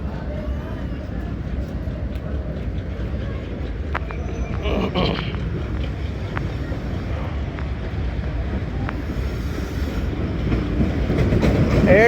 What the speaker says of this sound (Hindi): हमारा लोकोमोटिव डी अटैच हो गया जी,